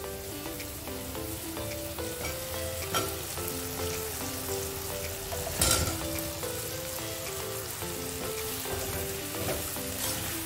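Mutton kola urundai balls sizzle and bubble in a masala gravy, a close, continuous fry with soft crackles and one brief louder clatter partway through, no voices.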